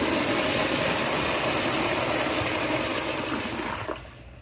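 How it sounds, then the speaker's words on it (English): A 2013 Kohler Highline toilet flushes with a loud, close rushing gush of water that holds steady, then tapers off toward the end, with no talking. "here's the flush"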